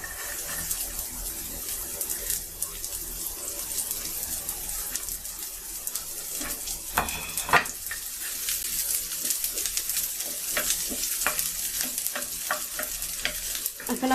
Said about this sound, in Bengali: আমি এখন রসুন কুচিটা দিয়ে দিচ্ছি।